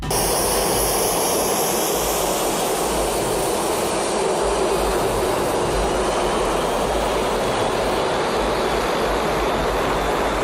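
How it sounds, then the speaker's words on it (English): A commercial airliner taking off on high-powered turbine engines, heard as a loud, continuous broadband roar that holds steady throughout, with no voices. "A small crowd gathers to watch a commercial airliner take off"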